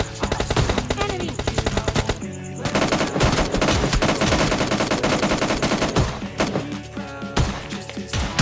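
Shotgun fire in the mobile battle royale game PUBG Mobile Lite crackles in a dense sequence of rapid, loud shots mixed with other gunfire and game sounds, with no talk heard.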